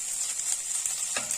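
Turmeric roasting in a pan for an immunity halwa gives off a steady, fairly quiet sizzle with a single scrape of a spoon near the end, no voices.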